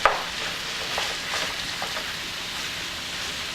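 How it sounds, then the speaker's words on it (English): Ground beef breaks up and fries in a pan for a homemade chili with beans, giving a soft, steady sizzle with a few light scraping and stirring clicks from a utensil, fairly quiet and close. "So I'll add that to my ground beef. Just kind of break up the ground beef a little bit."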